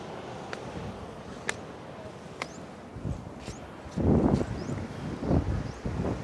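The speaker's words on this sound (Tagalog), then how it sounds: "Hangin kaayo." Strong wind buffets the microphone at a lighthouse, a continuous rough roar with heavier gusts building toward the end, with faint background talk.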